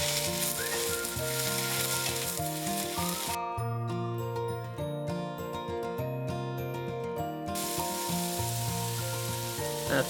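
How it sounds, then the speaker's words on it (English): Steady, loud sizzling of atsuage, shiitake mushrooms and vegetables being stir-fried in a hot pan for udon, with occasional clinks of a utensil, no voices. "Continue stir frying for a minute."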